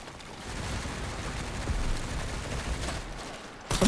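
Video game gunfire, a sustained rattle of shots at moderate distance over low rumble, ending in a sharper close burst.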